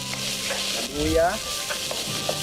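Ginger and garlic sizzling in a hot pan while being stirred, a steady close fry with brief scrapes and a low rumble, no speech.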